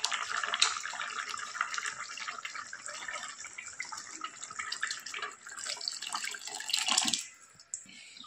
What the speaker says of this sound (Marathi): एक ग्लास पाणी टाकूया.